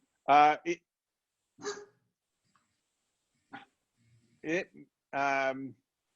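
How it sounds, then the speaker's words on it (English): A dog barks indoors in several short, separate barks spread over a few seconds, fairly close, with silence between them. "Sorry about my dog there."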